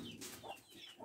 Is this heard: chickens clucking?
yes